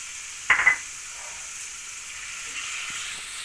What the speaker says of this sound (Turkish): Öncelikle tavamıza etimizi alıyoruz. Kızdırdığımız yağ ile.